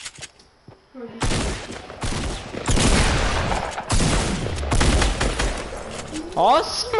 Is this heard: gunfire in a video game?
yes